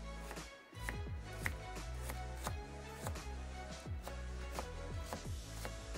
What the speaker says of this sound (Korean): 양파는 잘잘하게 채 썰어 주면 됩니다